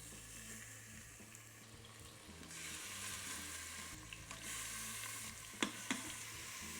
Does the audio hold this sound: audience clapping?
no